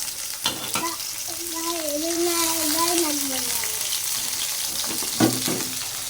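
Dried loitta fish sizzling in mustard oil in a pan, a steady frying crackle with a few stirring clatters, while a tonal whine rises and falls briefly in the middle.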